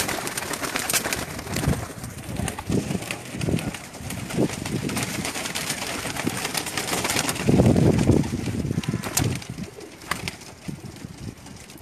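Pigeons on a rooftop in Jeddah, Saudi Arabia, coo repeatedly at close range against a busy, noisy background, with occasional soft bursts of wing flapping.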